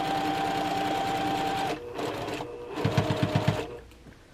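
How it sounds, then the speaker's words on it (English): A sewing machine stitching a quarter inch quilt seam, a steady close mechanical whir that stops briefly, then a shorter run with distinct rhythmic needle thumps. "I'm going to stitch this along."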